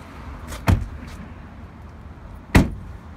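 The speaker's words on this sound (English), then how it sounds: "The center console flips open for an extra seat." A 2019 RAM 1500 Classic Express Quad Cab's center console lid flips open with two sharp, close clunks spaced about two seconds apart, the second louder, over quiet cabin hush.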